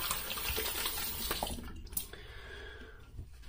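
Tap water running hard while rinsing off after a shave, a loud steady splash that drops away sharply midway to quieter trickling and scattered drips, close and without voices.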